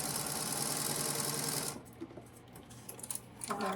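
A sewing machine runs steadily, stitching corner triangles onto a quilted table runner. It gives a loud, fast, even whir for under two seconds, then stops and leaves faint handling clicks.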